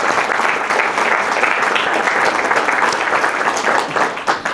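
Sustained audience applause at an educators hall of fame induction ceremony, steady dense clapping from a large crowd, loud and close throughout with no talk over it.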